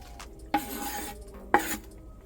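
Stewed beef with scallion, thyme and hot pepper is stirred in a pot. The quiet stirring is broken by two sharp utensil clinks against the pot, with no voices.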